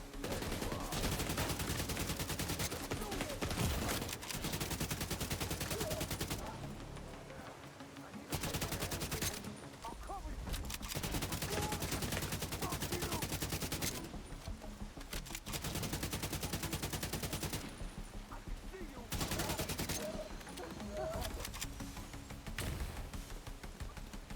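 Gunfire in the video game The Division 2, Battle for Brooklyn expansion: dense, loud bursts of automatic weapons fire that run almost continuously, broken by a few short pauses, with game sounds mixed in.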